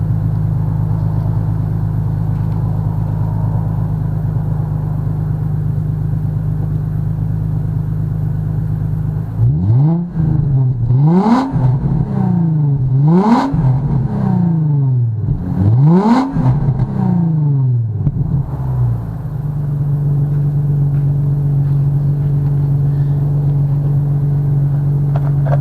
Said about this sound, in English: We had installed this PowerTech exhaust.